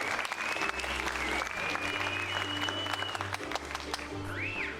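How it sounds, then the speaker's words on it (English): Audience applause rings out at a luau show at the Hyatt Regency Maui in Lahaina, Hawaii, a steady sustained clapping from a crowd following a Polynesian music set, with a low hum and faint voices underneath. "how about a round of applause for our purveyors of Polynesian music"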